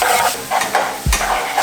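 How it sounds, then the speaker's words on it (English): Onions fry in a home kitchen pan, a close crackling sizzle with scraping stir strokes pulsing through it and one dull low knock near the end. "Frying onions, another pleasure of mine."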